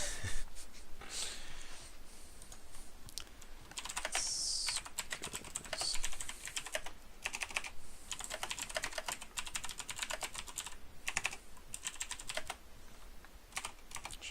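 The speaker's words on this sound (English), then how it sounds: "I'm sure you guys can hear my loud mechanical keyboard through my mic" Loud mechanical computer keyboard typed on continuously through a gaming microphone during an online Magic: The Gathering Commander game, dense close clatter of key clicks with a low hum beneath.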